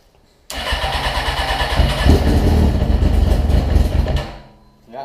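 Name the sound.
cold homemade side-by-side engine cranking and starting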